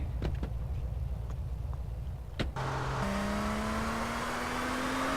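A Banshee car in the MTA San Andreas video game roars steadily. After a brief clunk, its engine tone climbs smoothly as it accelerates.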